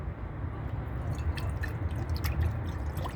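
Liquid pours into a pan close by while camping, a soft continuous gurgling splash with a few drips, fairly quiet.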